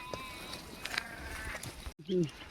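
Voices and rustling are heard, then one sheep in a shepherd's flock gives a single clear, close bleat near the end.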